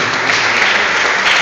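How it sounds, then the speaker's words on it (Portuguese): A church congregation claps steadily and loudly together, a dense, continuous wash of applause filling the room, with voices faintly mixed in. "Vamos aplaudir o Senhor."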